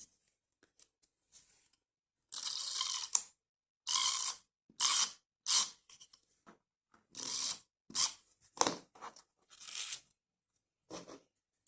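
A glue tape roller lays adhesive onto paper for a collage card, giving a series of short ratcheting, crackly strokes in an irregular rhythm, close up and otherwise quiet.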